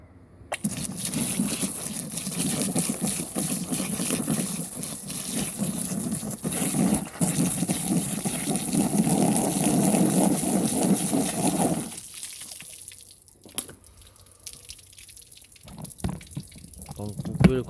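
Water gushes over a foldable Sunkkan bag in a waterproofing test, a loud steady splashing pour that lasts about twelve seconds before stopping, leaving faint drips and small knocks.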